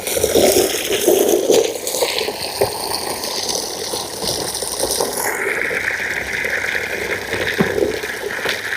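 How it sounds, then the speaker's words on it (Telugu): Water gushes continuously from a borewell through a pipe in a steady, rushing flow that stays loud and close the whole time. "ఇదే కంటిన్యూలో నీళ్ళు వస్తుంది."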